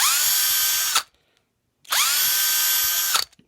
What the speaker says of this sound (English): I just drill and then rotate it back and forth.